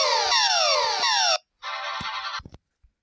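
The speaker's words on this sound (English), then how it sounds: "that's the reverse version of the Australian EAS alarm." A reversed Australian emergency alert alarm plays as a loud, close electronic tone: sweeping falling whoops for over a second, then a short pause and a harsher buzzing burst, followed by a few faint knocks.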